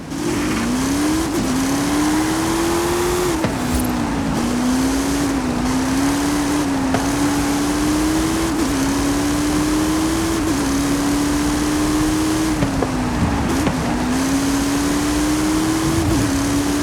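The Twin Mill car in Forza 5 screams continuously at high revs, its engine note rising and dipping through repeated gear shifts over a long, loud, steady run with no voices.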